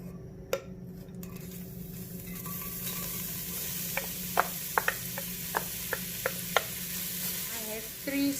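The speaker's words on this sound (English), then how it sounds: "I have 2 onions here that I'm going to add to the pot." Two onions sizzle in hot oil in a pot for mutton breyani. The frying hisses steadily, and a spoon clinks and scrapes against the pot several times in a loose rhythm.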